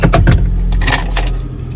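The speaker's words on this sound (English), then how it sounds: "No, it's a car key." Car keys jangle close by in a few quick metallic shakes, loud at first and then settling into lighter clinks over a low background hum.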